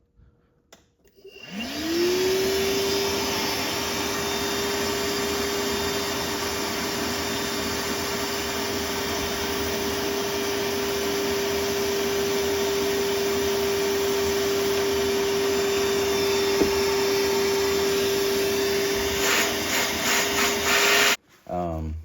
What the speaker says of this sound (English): I'm gonna turn on my vacuum to suck up any shavings too